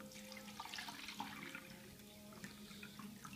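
Quiet trickle of water being poured into a measuring cup, a soft continuous splashing that holds steady throughout.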